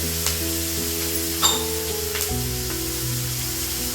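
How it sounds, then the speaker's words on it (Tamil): Tomatoes sauté in a pan for a country chicken chukka with a steady, close frying sizzle. A few light stirring scrapes and taps sound over the sizzle, with no speech. "தக்காளி நல்லா வதங்கட்டுமா"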